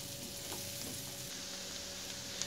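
Chopped onion sautés in a pan, giving a quiet, continuous sizzle with occasional soft stirring sounds and a steady hum underneath.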